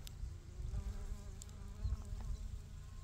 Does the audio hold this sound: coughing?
no